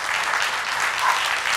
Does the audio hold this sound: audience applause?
yes